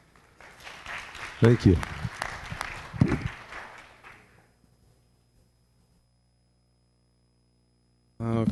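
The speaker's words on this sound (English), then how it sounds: "One final round of applause for Remy, please." Applause from the audience at a city council meeting, a burst of clapping under a brief spoken thanks that fades out over a few seconds, leaving near silence before a voice returns.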